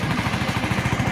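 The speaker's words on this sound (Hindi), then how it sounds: "तो अभी हमने बाइक को स्टार्ट की है और आप इसका साउंड सुन सकते" A motorcycle engine idling close by just after a timing chain repair, an even, rapid mechanical putter with no rattle across a brief moment.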